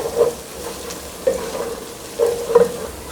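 Chopped onion and whole cumin seeds fry in a pan for a shrimp and turnip curry, a soft steady sizzle broken by a few brief stirring scrapes, close and alone without talk.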